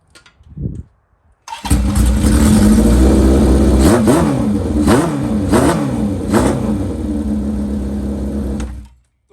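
Honda CB750 motorcycle engine with clutch trouble catches after a short crank, then revs loudly up and down in several rising and falling surges before cutting off near the end.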